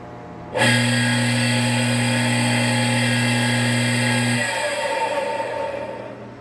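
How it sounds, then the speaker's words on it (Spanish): A water pump motor with a damaged start winding and worn bearings switches on abruptly with a loud humming buzz and a high whine. The low hum drops out after about four seconds while the whine fades away. "Esta bomba tiene problemas en el bobinado de arranque y los rodamientos o valeros se dañaron"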